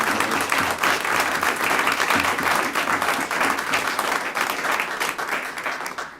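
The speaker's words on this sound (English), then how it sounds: "if we could give her a round of applause" A school board meeting audience breaks into sustained applause, a dense wash of many hands clapping steadily at full volume, tapering off right at the end.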